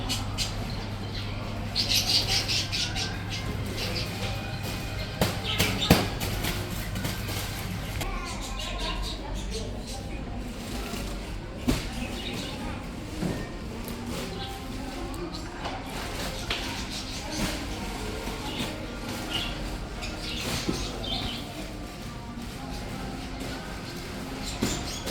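Pet birds chirping and squawking in a garden center shop, scattered calls over shuffling and background bustle, with a person talking throughout.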